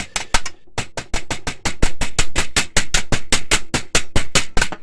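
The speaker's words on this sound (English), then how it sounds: "there's not really much space to move the hammer around." Rapid, steady series of about twenty hammer blows striking metal inside a DTG printer under repair, close and loud with even rhythm after a short pause near the start.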